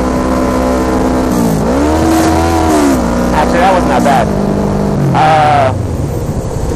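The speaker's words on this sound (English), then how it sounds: "I'm in high RPMs, I'm near red line, and I'm going to shift down." Motorbike engine held at high revs near redline, then shifting down, a loud close harmonic whine that dips and rises with each gear change, over steady wind noise.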